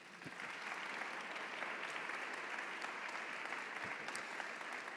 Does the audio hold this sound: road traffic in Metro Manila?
no